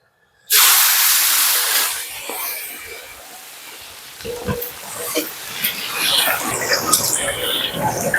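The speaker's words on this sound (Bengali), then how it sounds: "সর্ষের তেল তেল গরম হয়ে গেছে ওর মাছগুলো ভেজে নেব" Rohu fish pieces dropped into hot mustard oil set off a sudden loud hiss that stays strong, then settles into steady crackling frying with irregular pops and spatters, alone without talk.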